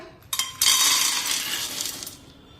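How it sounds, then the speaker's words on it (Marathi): Dried lentil dumplings (sandge) roasting in a spoonful of oil in a pan over a low flame, giving close, brief, clinking rattles and scrapes as they are stirred, then fading; no one speaks. "मंद आचेवर हे वाटीभर सांडगे भाजून घेऊया"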